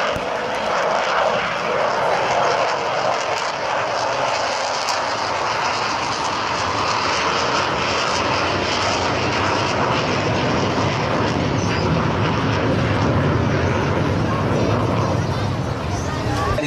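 An Avro Vulcan bomber's jet engines roar at the 2015 Blackpool airshow, a loud, sustained broadband rumble and whine that holds steady throughout as the aircraft passes overhead.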